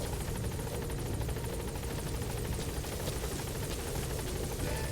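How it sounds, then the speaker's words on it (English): Support helicopter in the Metal Gear Solid 5 video game arriving at a landing zone, its rotor roar loud, steady and close throughout with a rapid chopping pulse. "Support helicopter"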